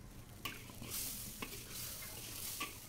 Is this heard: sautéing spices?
yes